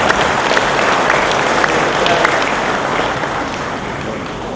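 An audience at a book discussion and 70th anniversary celebration for a professor in a grand mosque hall applauds, a loud, dense, steady wash of clapping from many hands that holds evenly throughout.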